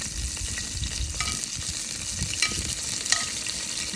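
Chunks of squirrel meat frying in a pan for squirrel gravy, with a fairly soft, even sizzle and occasional clinks and scrapes of stirring, no voices.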